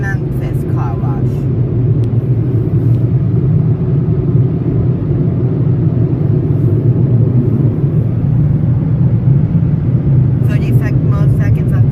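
Powerful Mark VII car wash dryers blast a constant, loud, low roar of air in a Shell ChoiceWash bay, with short faint squeaky sounds near the beginning and end and someone talking underneath.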